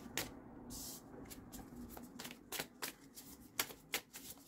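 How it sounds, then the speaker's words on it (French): Tarot cards are shuffled by hand before a three-card draw, making quick riffling flutters and soft slaps in uneven bursts, close and fairly quiet. "Nous allons donc tirer 3 cartes."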